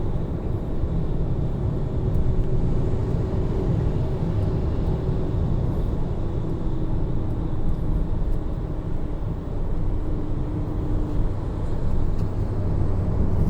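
A 2019 Nissan Leaf electric car drives up a hill road at Genting, giving a steady low cabin rumble of tyre and road noise with a faint whine, continuous and even, no talk.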